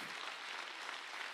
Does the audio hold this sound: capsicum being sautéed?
no